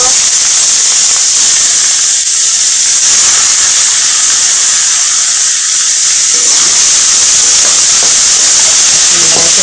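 Banana stem (thor) with black mustard seeds hisses and sizzles loudly in a hot pan, a continuous bright frying hiss close by with faint stirring underneath.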